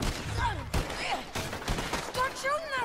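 A Gatling gun firing during a shootout in the video game Red Dead Redemption 2, sharp rapid gunfire bursts mixed with other shots and shouted voices across a few seconds.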